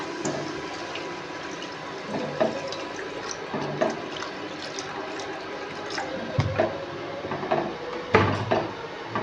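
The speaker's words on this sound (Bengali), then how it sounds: "এবার এর মধ্যে আমি জল দিয়ে দেব।" Water is poured into a cooking pan of egg curry masala whose oil has begun to separate, giving a steady splash and trickle with small bursts of louder sloshing.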